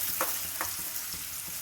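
Finely chopped onions frying in oil toward golden brown for a mutton kothu curry, a steady close hiss with light spoon scrapes and soft taps as they are stirred, and no talking.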